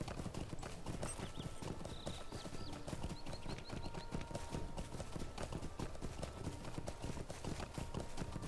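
Horse hooves clip-clop steadily in the video game Lord of the Rings Online (LOTRO), a continuous close rhythmic trot layered with soft ambient game sounds.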